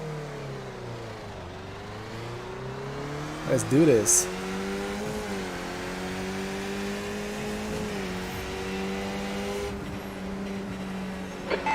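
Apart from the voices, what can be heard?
race car engines in video game iRacing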